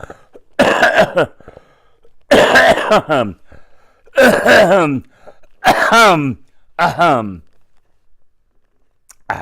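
A man coughs loudly and harshly in several separate bursts, close to the microphone, with short quiet gaps in between.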